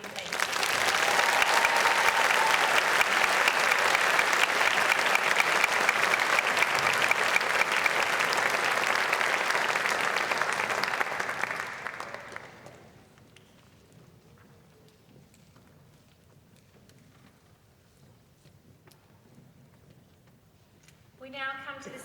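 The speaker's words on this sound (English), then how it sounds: "Let us acknowledge and applaud our student leaders" Audience at a school speech night applauding student leaders: loud, sustained clapping from a large crowd for about twelve seconds, then fading to quiet room tone with a brief sound at the end.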